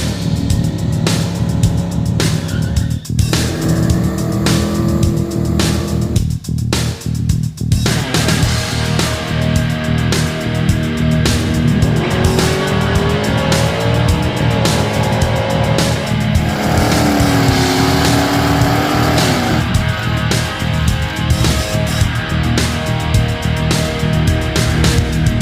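A Ford Foxbody GT fitted with a big-block V8, freshly given a new ignition and distributor, runs loud and close for the whole stretch, a rough steady rumble with revs swelling and dropping in several bursts, no talking.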